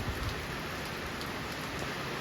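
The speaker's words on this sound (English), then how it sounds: "we're getting a good rain" Steady rain falls outdoors in a continuous even hiss with no breaks, a dense wash of drops on surfaces heard alone without voices.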